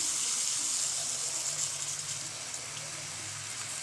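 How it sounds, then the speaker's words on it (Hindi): Water trickles steadily onto jaggery in a pan for peanut chikki, a soft continuous pouring hiss with no talk over it. "इसमें 4 चम्मच पानी डालेंगे"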